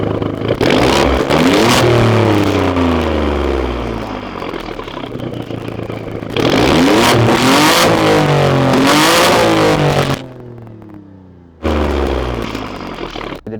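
An Alfa Romeo Stelvio Quadrifoglio SUV engine revs hard in long, loud roaring bursts close by, dropping briefly to near silence before surging again.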